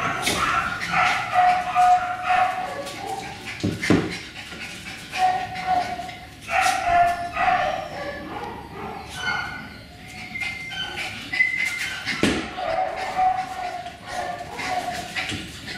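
A schnoodle puppy and an older dog play together, with scattered yips, short barks and scuffling. A person talks over the noise throughout.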